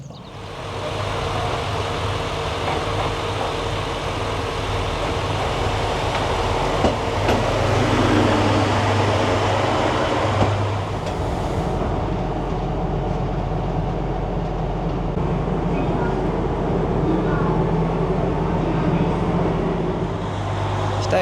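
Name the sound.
train running and arriving at a station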